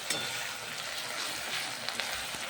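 Spices frying in oil for chilli paneer produce a soft, steady hiss and faint crackle, quiet and unbroken, with a few small clicks of stirring.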